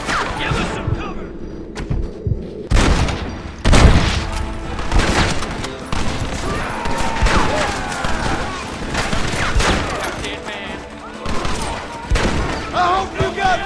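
Rapid gunfire from a shootout in the video game Red Dead Redemption, with scattered loud shots and bursts cracking over several seconds amid general battle noise and shouting voices.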